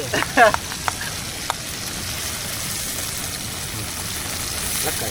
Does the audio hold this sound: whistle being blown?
no